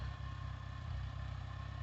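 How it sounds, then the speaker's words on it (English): A tractor engine idles nearby, producing a steady low, rhythmic chugging throb that holds even and unbroken throughout, with no voices. "I've got the tractor sitting over there idling"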